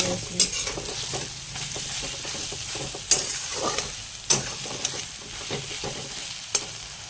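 Grated carrots roast in ghee for carrot halwa and are stirred in a pan. A spoon scrapes and clicks in irregular strokes over a steady, close sizzle, with no talking.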